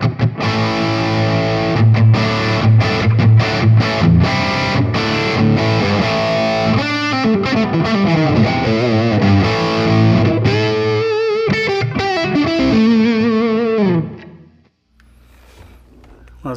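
Distorted electric guitar played through a hand-wired RockNRoll Amps CR60 in inorganic mode with the choke bypassed: loud, saturated chords and riffs, then sustained bent notes, ending in a sudden drop to near silence.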